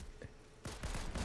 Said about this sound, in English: Juice getting shotgunned.